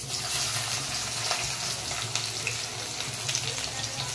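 Onion goes into hot oil with dried red chillies and black cumin, a continuous close sizzle and crackle of frying with light stirring scrapes throughout.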